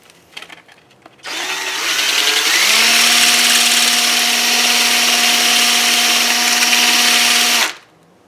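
Flap sander spinning on a power drill for coin ring making, a loud steady whine starting abruptly after a few faint clicks, holding for about six seconds, then cutting off.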